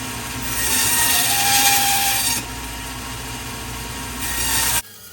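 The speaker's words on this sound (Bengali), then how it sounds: "এই যে দেখুন এইভাবে মেশিনে মাছ কাটা হয় এখানে" A large band saw machine cuts through frozen fish, scales and all, with a loud, steady grinding whine that holds for several seconds, eases slightly midway, swells again, then stops abruptly.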